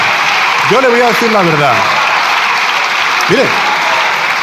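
Deputies in a parliamentary chamber applaud in a continuous loud roar of clapping, while someone speaks over it near the start and again briefly toward the end.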